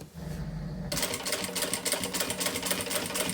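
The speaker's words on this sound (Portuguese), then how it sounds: "E costura, então, aqui na bordinha, deixando esse plástico bem esticado" A sewing machine runs steadily after a short pause, stitching along the stretched plastic edge of a handmade wine holder in a fast, even mechanical rhythm, close and alone.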